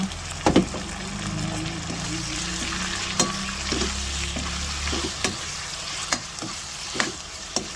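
Pork sizzling in a hot pan for adobo, a steady frying hiss with occasional sharp pops and stirring clinks, heard close without talking.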